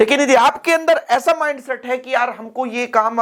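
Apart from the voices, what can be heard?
None of the usual background noises is heard.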